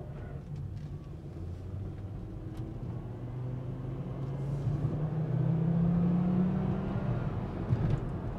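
A 2007 Volvo S60 AWD drives down the road, its engine a low, steady rumble heard from inside the car that swells and rises in pitch as it accelerates, with no talking.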